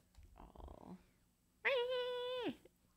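A cat with a sore throat gives one drawn-out, hoarse, raspy meow lasting about a second, close by, after a brief softer rustle.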